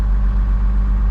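Heavy machine engine running as it drives forward while lifting a 3000-pound bag of rocks, a loud, steady, deep rumbling drone close by.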